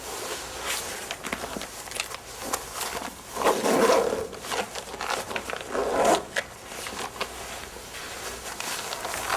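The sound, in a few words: zipper of an immersion suit being pulled up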